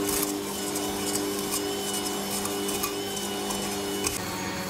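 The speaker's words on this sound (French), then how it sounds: "Et je vais la fouetter donc comme une chantilly" An electric mixer whipping ganache into a whipped-cream texture, a steady motor whir with a constant hum and faint rhythmic whisk clatter, close and alone.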